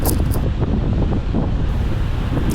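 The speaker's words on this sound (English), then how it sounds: "the headwind was pretty strong at 30 kilometers an hour" Strong 30 km/h headwind while cycling buffets the microphone in a constant, heavy rush, rumbling low throughout with no voices.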